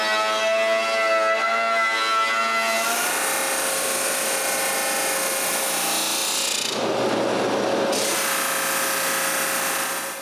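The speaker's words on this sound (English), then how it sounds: "A drum sander is very useful, but it still leaves little marks on the wood." A drum sander and an orbital sander work boards of wood for a small writing desk, giving a loud, continuous grinding whir with a steady tone that briefly changes and roughens before steadying again.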